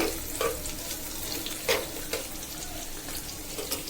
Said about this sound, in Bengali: এগুলো আগে ভালোভাবে ভাজা হয়ে যাক